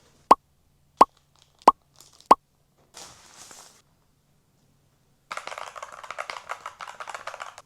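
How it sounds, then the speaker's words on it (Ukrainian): Keys click on a Keychron C1 Pro 8K keyboard with rounded keycaps: four sharp, isolated presses about half a second apart, then a soft rustle and a longer stretch of light clattering handling noise. "І мій вибір впав на ось таку клавіатуру Keychron C1 Pro 8K"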